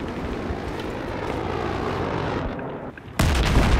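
A military airplane roars past in the Battlefield 3 video game on the Caspian Border map, a loud continuous jet rush with distant gunfire and explosions, then an abrupt heavy burst near the end, with no talk over it.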